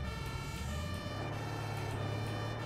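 German fire engine siren in the video game Emergency Simulator 2, a wailing siren heard against a steady vehicle engine drone at moderate, fairly faint level, with no talk.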